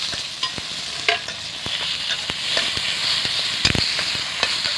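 Tomatoes and curry leaves sauté for beetroot chutney, a steady close sizzle broken by irregular spatula taps and scrapes against the pan.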